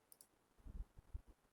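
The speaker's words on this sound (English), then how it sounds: "I'm clicking on a refresh" A computer mouse clicks a refresh button: a quick cluster of soft, close clicks and taps, faint and dry against a quiet background.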